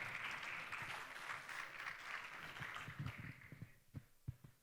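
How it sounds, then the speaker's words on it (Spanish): An audience at a Digital Bank Chile conference stage applauds as presenters are welcomed, the clapping fairly faint and fading into a few scattered claps at the end. "Un gran aplauso."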